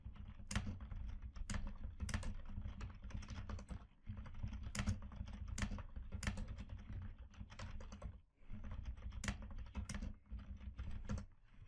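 Steady typing on a computer keyboard while entering lines of text in the vi editor, dense rapid keystrokes with a few louder key hits, close and continuous with brief pauses, no voices.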